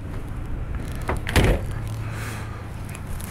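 Rear-hinged suicide door on a 1962 Lincoln Continental being operated: a single solid thud of the door closing midway, set against a low steady background hum, with no talk.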